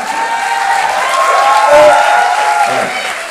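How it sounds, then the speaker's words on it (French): Crowd applause and cheering at an improv theatre show in Paris, a loud burst of clapping blended with voices, a performer talking over the noise. "Mais n'applaudissez pas"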